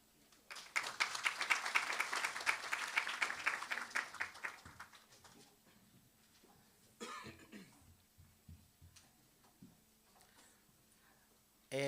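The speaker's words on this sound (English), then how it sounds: "We can appreciate that conversation again with a round of applause." An audience bursts into applause, a dense clapping that swells and then fades after a few seconds, followed by scattered coughs and small room noises.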